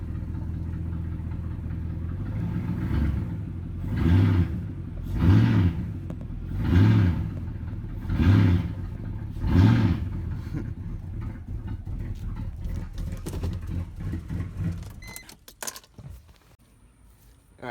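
A Mercedes-AMG engine idles in gear with worn-out, blown motor mounts, giving a low steady rumble broken by five evenly spaced heavy thumping surges before it rattles and shuts off.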